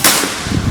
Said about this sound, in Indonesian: Ini kita coba untuk tembakan pertama